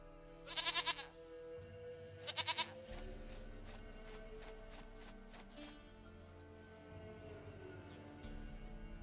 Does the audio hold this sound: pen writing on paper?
no